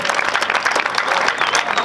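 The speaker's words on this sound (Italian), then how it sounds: "Fate un grande applauso" Warm applause fills a folk dance show by a children's Sardinian dance group, many hands clapping densely and loudly throughout, with a faint murmur of the crowd beneath.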